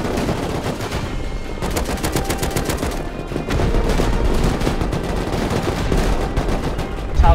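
Rapid automatic gunfire in the video game Rust, dense bursts of shots firing nearly nonstop at close range and loud, with players talking over the action.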